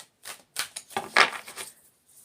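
Tarot cards being shuffled by hand, a handful of quick papery riffles and slaps in short bursts, close and fairly soft, with no talking.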